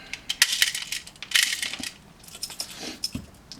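An airsoft Hi-Capa pistol, a GSB Dragon 6-inch full-auto Tokyo Marui build, takes a fresh magazine: close metallic clicks and a firm clack as the mag slides home, with lighter handling rattles around it.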